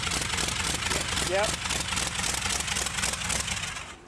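A rat rod engine fitted with motorcycle baffles idles close by, a loud, even, throbbing rumble that holds steady for about four seconds before easing slightly at the end, with a brief spoken word over it.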